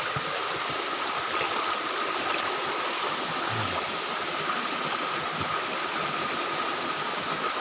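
Water sluicing steadily over gold ore being washed in a wild forest mining spot, a continuous broadband rush like a small stream, fairly close and even throughout, with no talk.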